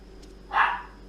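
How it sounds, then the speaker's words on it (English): A single short husky bark rings out nearby, brief and sharp against a quiet room hum. "If you hear a little barking, a little yapping,"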